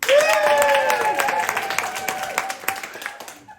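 Improv theatre audience clapping to vote for a scene choice, a ragged burst of handclaps and cheering under a performer's sustained voice, tapering off toward the end.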